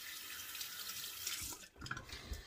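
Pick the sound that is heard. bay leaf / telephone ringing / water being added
water being added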